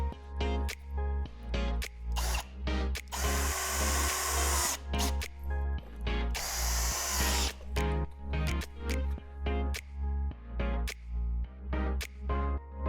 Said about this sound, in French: Placez sur votre perceuse visseuse la tige appropriée et fixez les plaques d'appui.